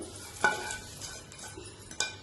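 A spoon scrapes and stirs through tamarind rice in a metal vessel, a few distinct scraping strokes with soft shuffling between, close and quiet.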